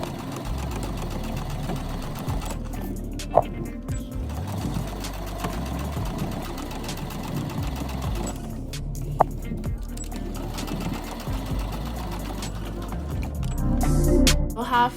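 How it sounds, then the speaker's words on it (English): Sewing machine running a straight stitch on a mini bandana pleated skirt, a steady mechanical whirring hum in long continuous runs with brief pauses and small clicks, close up. "from this point on, you're just gonna straight stitch from the top"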